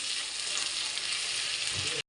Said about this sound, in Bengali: একটু পেঁয়াজ আমি বাইটে দিচ্ছি আর একটু ভাজে দেবো।